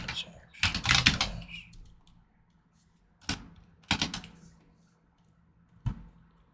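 Bursts of typing on a computer keyboard, a dense flurry of key clicks followed by a few isolated clusters of keystrokes with quiet pauses between, close and clear with no talking.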